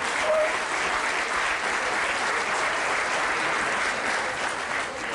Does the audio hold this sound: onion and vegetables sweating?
no